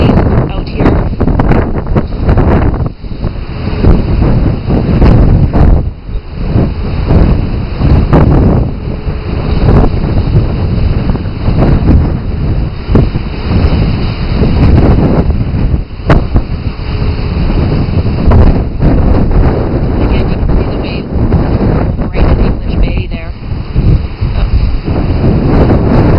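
Strong windstorm at English Bay, Vancouver, with heavy wind roaring across the microphone and rough seas with whitecaps, loud and continuous with constant buffeting gusts, and someone talking throughout.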